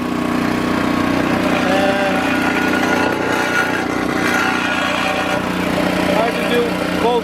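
A Craftsman snowblower engine runs steadily and loudly, a continuous droning hum with a slight rise as the machine is shifted into second gear and drives forward.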